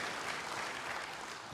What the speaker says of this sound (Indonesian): Berikan tepuk tangan hebat bagi Tuhan.